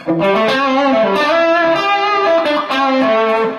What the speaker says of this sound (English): I'm adding in the visual sound. So it's a little, just a little bit of echo